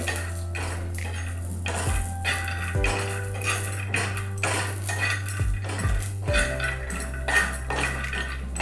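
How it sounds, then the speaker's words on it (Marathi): Peanuts roast in a pan over low heat for a chili thecha, a utensil scraping and knocking against the metal in repeated strokes over a constant low hum, close up. "आता आपल्याला शेंगदाणे भाजायचे आहेत। आता हे पण आपण छान भाजून घ्यायचे।"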